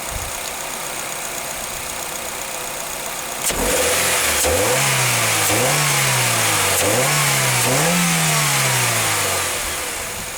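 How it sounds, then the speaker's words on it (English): A Mazda 2 engine, started cold, revs up four times in quick succession, each rise in pitch falling back toward a steady idle. Loud and close, with no voices. "Let's try to rev it a bit."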